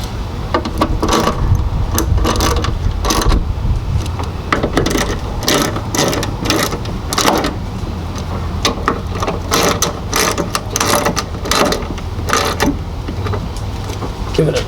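The manual window winder mechanism in a Unimog U1700 door is cranked repeatedly. It gives bursts of close ratcheting, clicking gear noise with short pauses between turns, over a low background hum.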